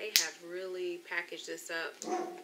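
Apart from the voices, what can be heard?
dog barking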